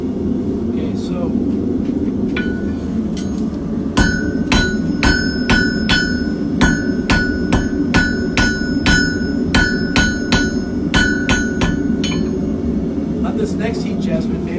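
Hand hammer forging a hot steel hook tool on an anvil, a rapid run of about twenty sharp ringing blows in steady rhythm, loud and close over a constant forge roar.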